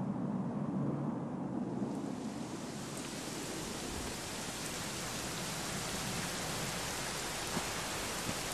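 Heavy rain pours steadily in the Dragon Quest XI video game, joined by a deep rolling rumble of thunder that swells and lingers under the dense hiss.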